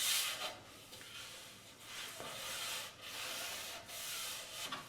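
Steady rhythmic scratching strokes of sandpaper rubbed lightly back and forth over a finished wooden cabinet shelf between coats, close up, with no one speaking.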